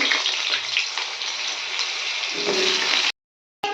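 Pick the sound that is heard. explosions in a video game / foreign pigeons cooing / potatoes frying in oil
potatoes frying in oil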